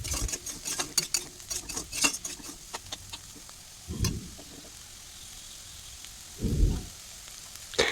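Fried potato slices (alur bhaja) with cumin and coriander powder being stirred in a pan: steady soft sizzling with irregular scraping clicks and a couple of dull thumps of the spoon.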